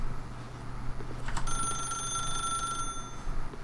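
A telephone rings in The Stanley Parable, a steady electronic ringing that starts partway in and holds over a low background hum, with no talk.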